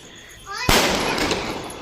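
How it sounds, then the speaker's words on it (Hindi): Firecrackers bursting in a residential neighbourhood on the night of the Karwa Chauth festival, one sharp loud bang followed by a crackling, hissing wash that fades slowly. "पड़ोस में बम फूट रहे हैं"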